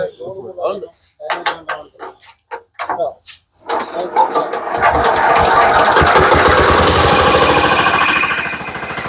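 Homemade JCB excavator built by a higher-secondary student starts up after a stretch of talk and clatter, then runs as a loud, steady rattling engine drone with metallic knocking through the second half.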